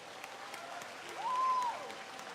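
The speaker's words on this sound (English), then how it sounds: "join me in a final round of applause for all the excellent performance" A ceremony audience applauds after a series of performances at a long-life offering event, with soft, even clapping that sounds distant, plus a brief tonal sound in the middle.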